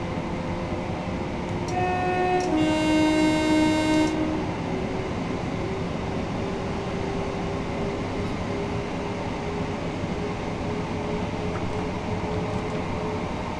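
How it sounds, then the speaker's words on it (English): A four-car passenger train in Train Sim World on the Seaford to Brighton service runs with a steady rolling rumble, while a loud two-tone horn sounds for about two seconds near the start. "we are driving a 4-car train"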